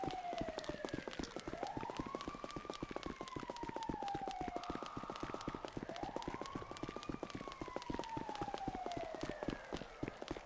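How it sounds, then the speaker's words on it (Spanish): An ambulance siren in the video game GTA 5 wails in long rising and falling sweeps, steady and prominent over a dense rapid clatter of footsteps or hooves. "Eso se escucha como ambulancia."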